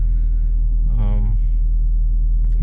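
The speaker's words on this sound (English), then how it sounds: "cabin noise from the exhaust is kind of low" Low, steady exhaust drone fills the cabin of a 2017 Chevrolet Camaro SS 1LE. The rumble stays constant and subdued beneath a person talking.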